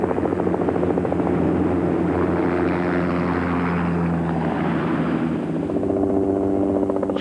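A Mi-2 helicopter flies steadily overhead, its rotor and engine producing a continuous loud droning thrum with a rhythmic blade beat that holds throughout with slight shifts in pitch.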